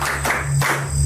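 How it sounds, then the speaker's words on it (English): Students in a dimly lit classroom clap their hands in a brief, close burst of a few sharp claps that swell and fade within about a second. "Clap hands for her."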